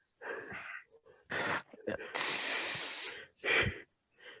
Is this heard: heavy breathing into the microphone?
yes